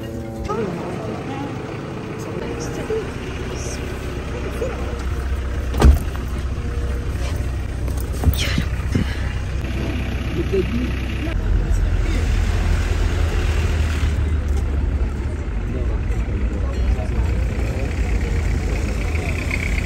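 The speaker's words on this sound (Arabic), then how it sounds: "زحمة" Car engines idle and rumble in a congested traffic jam, a steady low drone heard from inside a vehicle, with voices talking faintly beneath and a couple of brief knocks.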